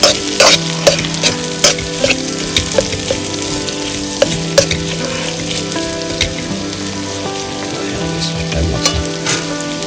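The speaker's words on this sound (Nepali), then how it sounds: "डीप फ्राई गर्नुपर्छ प्याजले ब्राउन बनाउनुपर्छ" Onions deep fry in hot oil for a chicken curry, a continuous loud sizzle broken by sharp scraping and clinking as a utensil stirs them in the pan, no talking.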